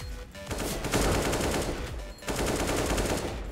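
Rapid bursts of AK rifle fire in the shooter game CS:GO, two loud sustained volleys of automatic shots separated by a brief gap, close and dominant.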